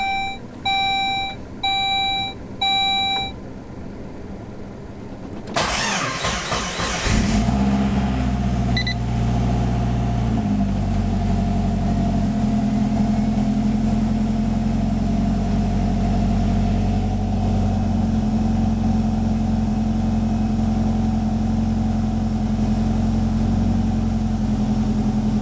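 A Saab 9-5 Aero engine cranks with a short churning burst, catches and settles into a steady, close idle, after a few electronic warning beeps at the start.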